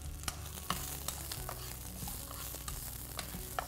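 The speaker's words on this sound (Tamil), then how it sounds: "கொஞ்சமாக இஞ்சி எல்லாத்தையும் சேர்த்துட்டு இதை வறுக்கலாம்." Onion, garlic and ginger frying in a pan for a black chickpea curry: a steady soft sizzle broken by sharp clicks and scrapes of stirring, fairly quiet and close, with no voices.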